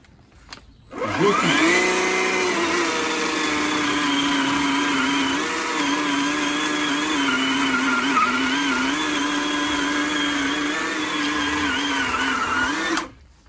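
A chainsaw or power saw bites steadily into a wet palm tree trunk, its motor snarling loudly and continuously for about twelve seconds with slight pitch wavering as the blade meets resistance.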